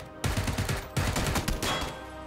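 Several bursts of rapid automatic gunfire rattle off in PUBG (PlayerUnknown's Battlegrounds), fairly faint and distant, with brief gaps between the volleys.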